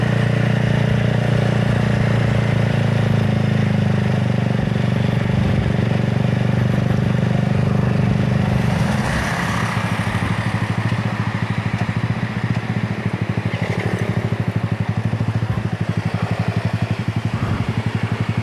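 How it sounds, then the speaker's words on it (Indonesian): A motorcycle engine runs steadily throughout with a rough, uneven idle, close by and loud. "Motor saya udah kasar nih"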